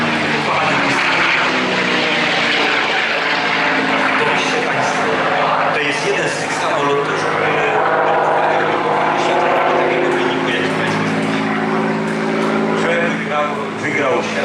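Propeller engine of a P-51D Mustang drones steadily and loudly throughout as it flies at an air show, with someone talking over it the whole time.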